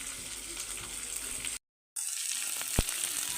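Cabbage and onion pieces sizzling in a little oil in a kadai on the stove, a steady hiss with a brief drop-out in the middle and a faint clink near the end.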